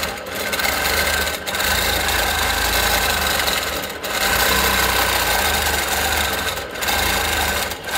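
A quilting machine stitches feather patterns on a quilt, guided along a wave-shaped ruler. Its loud, continuous mechanical hum and rapid needle rhythm stop briefly a few times, then restart. No voices.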